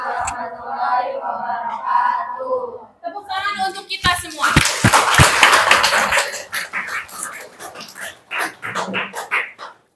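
A class claps together after a group presentation, bursting into loud, close, rapid clapping with sharp slaps that breaks into scattered claps, following spoken voices and mixed with chatter.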